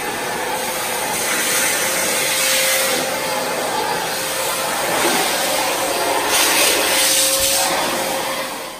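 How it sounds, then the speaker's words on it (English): A HEPA vacuum cleaner runs continuously during mold removal with a loud, steady motor whine and broad airy hiss. Its pitch swells slightly at moments as it moves, with no voices. "Great vacuum that does a good job with"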